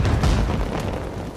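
A firecracker-like explosion in the video game Death Stranding 2, a loud low boom that rumbles and slowly fades over a second and a half, with no talking.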